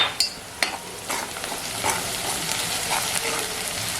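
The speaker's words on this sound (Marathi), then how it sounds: "कांदा पण आता परतला गेलाय" Onion with coarsely crushed garlic fries in a pan for a jackfruit vegetable dish, a steady close sizzle broken by a few sharp clinks of a spoon stirring against the pan.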